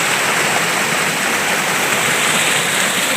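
Rushing waterfall at the Roncando falls, a steady, loud broadband roar of falling water filling the whole stretch without pause, close by and with no voices.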